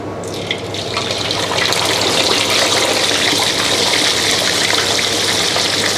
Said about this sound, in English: now we check the oil hot enough to fry